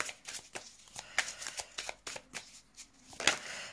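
Tarot cards shuffled by hand ahead of a reading, a series of crisp riffling and flicking bursts at uneven intervals, close and fairly soft, with no talking.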